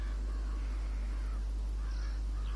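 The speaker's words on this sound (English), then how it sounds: "Few birds are up." Crows caw in Ghost Recon Wildlands, a few harsh calls rising over a steady low rumble of game ambience.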